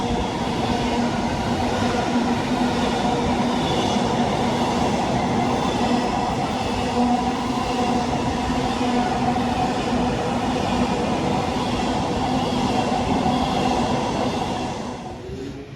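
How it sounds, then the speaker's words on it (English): A late-running passenger train pulls slowly into a station on the West Coast Main Line, a steady loud rumble of wheels and carriages sustained throughout before easing off at the end, with no talk. "coming in slowly but surely is going to be my train"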